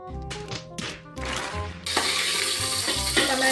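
Onions, mustard seeds and cumin hit hot oil in a pan and crackle into a steady, close sizzle. Several soft stirring taps come first, then the frying swells louder and stays dense with no talk.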